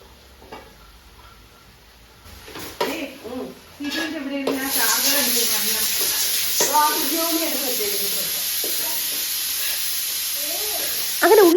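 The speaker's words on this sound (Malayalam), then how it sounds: "ഉള്ളി അടി പിടിക്കാതെ ഞാൻ നന്നായിട്ട് ഇളക്കി കൊടുത്തോണ്ടേ ഇരിക്കുക" Small onions frying in an aluminium pan, a quiet start giving way to a loud, steady sizzle with stirring scrapes, while someone talks over it.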